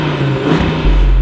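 An Audi RS3 Sportback hyperhatch engine revs loudly and close, a steady throaty drone that deepens and swells toward the end, with no talking.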